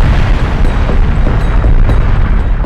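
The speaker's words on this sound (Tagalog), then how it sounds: "Ang bulkang Taal nagkaroon ng bahagyang pagputok o pagsabog at nagbuga ng abo mula sa bunganga nito." A deep, continuous rumbling roar with dense low-end booms from an eruption of Taal Volcano, loud and sustained throughout, with no voices.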